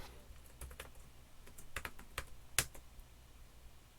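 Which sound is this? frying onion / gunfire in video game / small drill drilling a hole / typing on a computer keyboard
typing on a computer keyboard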